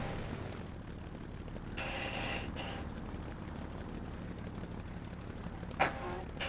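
Propeller airplane engine in a video game, from a badly damaged plane with both wings shot away, giving a steady, rough drone throughout with a brief sharp knock near the end.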